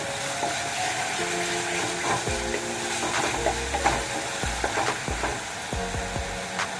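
Fish masala sizzles steadily in oil in a pan while a utensil scrapes and knocks against it in irregular strokes, close by.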